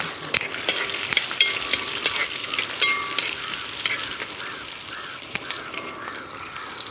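Garlic and onion frying in hot oil in a pan make a continuous, close crackling sizzle with small pops and clicks throughout, with no talking.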